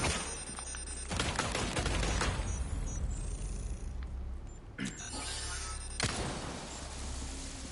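Automated turrets firing in the Resident Evil 4 Remake video game: loud, dense bursts of rapid gunfire, with a sharp cutoff near the middle and another burst afterward, over steady game ambience.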